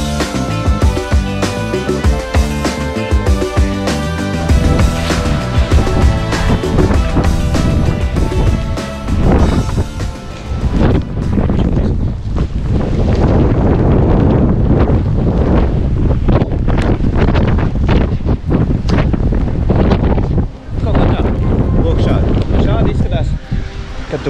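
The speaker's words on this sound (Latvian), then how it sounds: "Un nāk virsū pats sniegs un liels vējš." Strong wind buffets the microphone during a snowy winter storm in Scotland, loud roaring gusts throughout, with harsh irregular bursts in the opening seconds and steadier blustering later.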